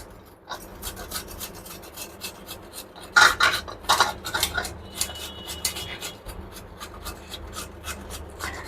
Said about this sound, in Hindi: मैंने लिया है एक अदरक का पीस और मैं इसको घिस लेती हूँ